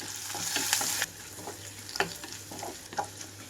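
Ginger, green chillies, curry leaves and mint sizzle in hot oil while being stirred, with a crackling burst at the start that settles into a steady fry broken by scraping stirs.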